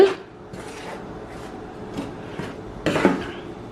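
A ladle scrapes and turns dry roasting puttu flour in a pan, a series of soft scuffing strokes spaced about half a second apart, ending in a louder clatter of metal against the pan.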